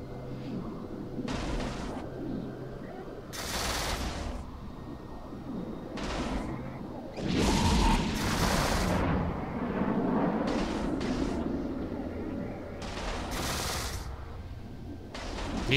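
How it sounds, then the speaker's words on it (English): Autocannons on a spaceship in the game EVE Online fire in repeated rapid bursts like a machine gun, loud and close, with short pauses between volleys over a continuous background hum. "He's got autocannons on it, firing from him. That's why it sounds like a machine gun."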